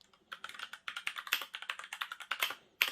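Rapid, close typing on a Kemove DK61 Snowfox 60% mechanical keyboard fitted with Gateron Brown switches: a dense run of crisp keystroke clacks with short pauses and no talk.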